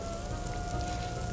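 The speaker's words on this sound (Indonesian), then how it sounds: "ketika hujan yang sangat deras" Heavy rain pours in a steady, dense hiss that stays even and unbroken throughout, with a faint constant tone underneath.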